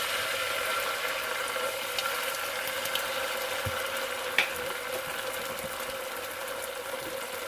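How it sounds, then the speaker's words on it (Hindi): Water poured into a pan of sweet chilli chicken sauce with sautéed garlic and ketchup, a steady broadband splashing hiss lasting several seconds with a faint click midway, no talking. "थोड़ा सा मैं पानी ऐड कर दूँ इसके अंदर"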